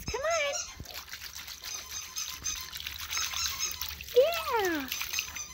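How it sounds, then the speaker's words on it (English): Puppies from a litter splash in water during play on a hot day, with steady watery sloshing and patter. People talk and call out over the splashing. "Splash, splash."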